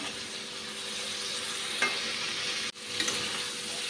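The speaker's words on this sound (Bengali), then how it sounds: "মশলাটা খুব ভালো করে ভেজে নিয়েছি শিমের সঙ্গে।" Green chillies and spices frying with flat beans in a pan give a steady, close hiss and sizzle, with a brief scrape of stirring and a short gap near the end, no talking.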